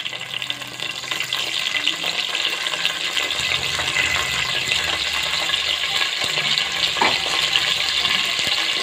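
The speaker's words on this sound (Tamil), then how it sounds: "இப்போ வந்து கருவேப்பிலை சேர்த்துக்கலாம்." Curry leaves frying and sizzling in hot oil for a rooster curry, a steady loud crackle with some stirring and watery hiss running throughout.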